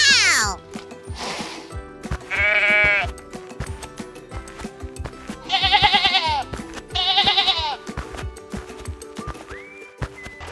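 Goats bleat in a series of loud, wavering calls spaced between breaks, mixed with other animal sounds and hoof-like knocks in a toy zoo diorama scene.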